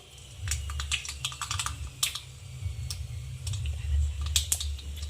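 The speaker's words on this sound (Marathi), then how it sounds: "तेल तापाला ठेवलं दोन ते तीन चमच तेल घेतलं आता यामध्ये आपण मोहरी ॲड करू" Mustard seeds hitting two to three spoonfuls of hot oil in a pan for a yellow potato dish, crackling and spluttering in quick irregular pops over a low steady hiss.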